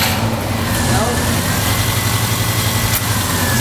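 A car engine runs in a Canadian winter cold start, a loud rough rumbling idle that fills the whole clip with a steady low throb, close to the listener.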